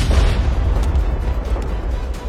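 A large ancient golden nanmu tree bursting apart in a fantasy tale, rendered as a loud rumbling explosion effect, a sustained deep boom with crackling texture lasting the whole two seconds, with no speech.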